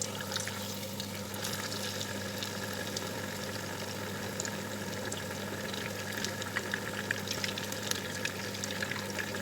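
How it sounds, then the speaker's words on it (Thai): Steady, dense crackling of turmeric chicken frying in hot oil in a pot, a continuous sizzle with a low bubbling hum underneath, no voices. "ทอดได้แล้วค่ะแต่ไม่ติดก้นหม้อเห็นไหมคะ"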